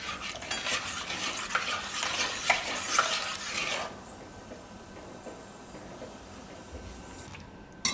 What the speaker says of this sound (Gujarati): હવે આને ઉકાળી લેવું. વચ્ચે વચ્ચે હલાવતા રહેવું.